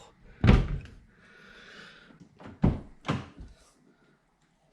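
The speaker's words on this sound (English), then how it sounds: "Shut the door. Open the door." A 2012–2019 Volkswagen car door closes with a solid thunk, followed by a softer click and further thuds as it is opened and shut again, close up in a quiet space.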